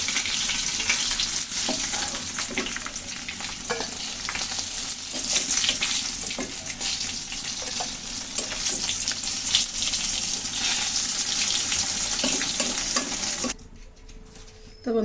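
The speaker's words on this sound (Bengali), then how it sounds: "মাছের ওপাশটা ভালো করে ভেজে নেবো এইভাবে" Koi fish fries in hot oil in a home kitchen, a continuous loud crackling sizzle with occasional stirring scrapes, fading abruptly near the end.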